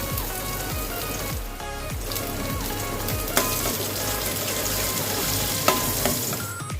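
Finely chopped garlic and a few curry leaves hit hot oil for gathiya shaak, giving a dense, steady crackling sizzle throughout with a couple of sharper pops, close and fairly loud with no talking.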